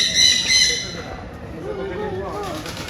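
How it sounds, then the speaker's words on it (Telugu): Hens and other birds at a farm enclosure, squawks and sharp calls near the start followed by lower chatter, heard alongside people talking nearby. "ఇక్కడ హెన్స్ ఉన్నాయి అండ్ బర్డ్స్ కూడా ఉన్నాయి పక్కనే"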